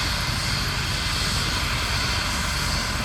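Helicopter landing at Goodwood, a steady loud close rotor and engine roar throughout.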